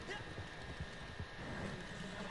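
Horse hooves galloping in the Red Dead Redemption video game, a faint, steady run of low thuds that carries on for the whole stretch beneath a soft layer of wind-like noise.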